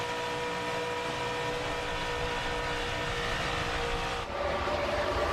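NASCAR stock cars at full throttle during the 2009 Subway Jalapeno 250, a continuous loud engine roar with a steady droning hum and no breaks, heard from a fixed vantage point.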